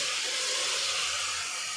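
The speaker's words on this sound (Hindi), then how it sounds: "तो अब हम ये जो हल्दी वाले पानी में हमने ये जो आलू काटे थे वो इसमें डालें, और इनको भी अच्छी तरह भूनें।" Chicken and turmeric-soaked potato pieces sautéing in a pan, a loud, steady hiss of frying throughout.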